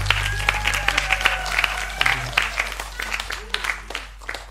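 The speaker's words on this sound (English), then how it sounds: "can we get a big round of applause for Moshe?" Audience giving a big round of applause for Moshe at a live music podcast, sustained clapping with individual sharp claps and voices mixed in over a low hum.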